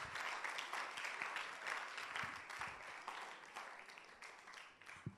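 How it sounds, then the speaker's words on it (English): A seated audience at a literacy competition finale claps for the contestants, sustained dense applause that slowly thins toward the end, heard from within the room. "So let's give them a round of applause for doing a good job"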